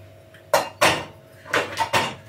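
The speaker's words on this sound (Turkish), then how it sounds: "Şu çıkan bulaşıkları hemen makineye düzüleyim." Dishes clattering as they are loaded into a dishwasher in a home kitchen, five sharp separate clinks and knocks at close range.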